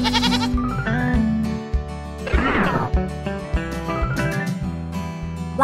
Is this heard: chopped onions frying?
no